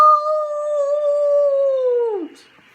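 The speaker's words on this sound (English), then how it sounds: "The two white wolves threw back their heads and howled." A single long wolf howl from two white wolves, an audiobook sound effect, holds a steady loud tone for about two seconds before sliding down and fading.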